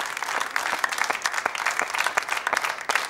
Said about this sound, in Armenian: Միգեք ծափարենք եւս մեկ անգամ